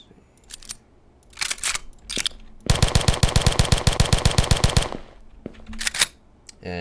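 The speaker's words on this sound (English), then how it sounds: "working on the gun sounds, make them a lot more appropriate and just overall better sounding" Bursts of video game Thompson submachine gun fire: a few short rattling volleys around one long, rapid, mechanical burst lasting about two seconds, with no talking.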